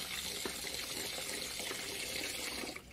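A steady stream of water pours close by while grated papaya is rinsed, making a continuous gushing splash. No one speaks.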